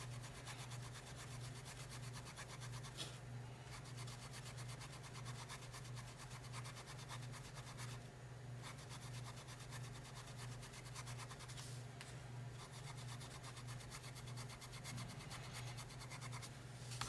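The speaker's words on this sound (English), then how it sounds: "And I'm just going to rub back and forth." Steady back-and-forth rubbing to strip paint from a wooden Easter bunny window insert, a continuous rasping scrub with a low hum beneath, close and fairly quiet.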